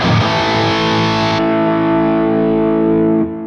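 An electric guitar played through a distorted preset on a Line 6 Helix Stadium XL or Fractal Axe-FX III amp modeler rings out with a loud, sustained chord, then shifts to a darker held tone before cutting off.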